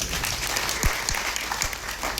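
A religious gathering in the village of Gaglasan honours the saints Hiraram Maharaj and Yogeshram Maharaj with a brief, dense burst of crowd clapping, close and steady throughout.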